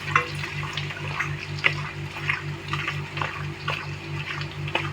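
Onions browning in hot oil in a pan give a steady, close sizzle with scattered crackles and pops, a low hum running underneath.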